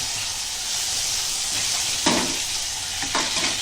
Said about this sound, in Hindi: अभी वटाना डाले, ताज़ा वटाना है, हरा वाला। अच्छे से भूनेंगे इसको।